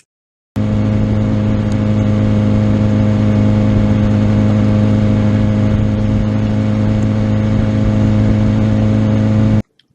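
A racing-school motorcycle on a track, a steady, loud engine drone at constant pitch that holds for about nine seconds before cutting off abruptly.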